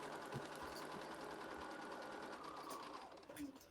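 A sewing machine stitching fabric for foundation paper piecing whirs in a steady, fairly faint run for a few seconds, its needle chattering rhythmically with a small bump near the end.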